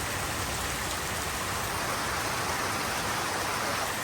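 Heavy downpour during a thunderstorm, a dense, steady roar of rain pounding surfaces that fills the whole stretch evenly and loudly, with a voice speaking only faintly beneath it.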